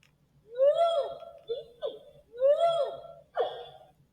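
An orangutan calls at night in a jungle with two pairs of rising, hooting cries, each a longer whoop followed by a shorter yelp, fairly close and clear over a quiet background.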